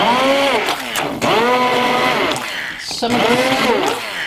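A kitchen blender purées part of a pot of homemade beef stew, its motor whining loudly in steady surges with brief pauses between bursts, close and dominant throughout.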